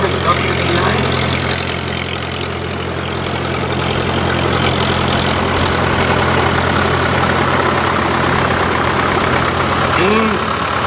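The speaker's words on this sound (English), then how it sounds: "other one owned by Patrick from Perrinville, a 1947, McCormick W9." A 1947 McCormick W9 tractor runs in a parade, its heavy engine idling with a steady low rumble close by, while an announcer talks over the engine throughout.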